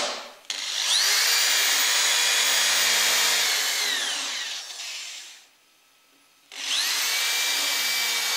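A power screwdriver drives screws into a bentwood coffeehouse chair in a workshop. There are two loud, whining runs close by, the motor rising in pitch as each screw seats, with a brief quiet gap between them and no talking.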